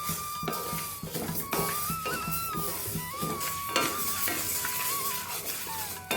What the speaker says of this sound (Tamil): ஈவனாக கிளறிகிட்டே இருந்தோம்னா தான் கரெக்டாக வரும்.